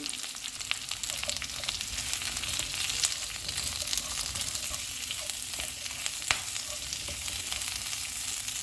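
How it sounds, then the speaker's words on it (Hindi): Onions and capsicum fry for chilli chicken with a dense, steady sizzle and crackle, close and continuous, with no talking. "प्याज डालेंगे, शिमला मिर्च, चूल्हे को मीडियम कर देंगे और इनको 1 मिनट तक फ्राई करेंगे"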